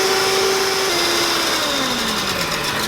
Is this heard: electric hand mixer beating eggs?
yes